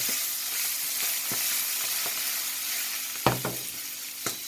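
Smoked mackerel with a little chili sizzles steadily in a frying pan close up, with a few sharp spatula knocks as it is stirred.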